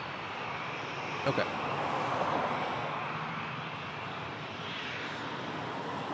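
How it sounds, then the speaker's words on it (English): A WestJet Boeing 737-800 jet airliner roars steadily at Toronto's airport, a broad sustained engine rumble heard from a distance, with a brief spoken word from someone nearby. "I'm gonna skip the Airbus, but I will film the WestJet 737-800"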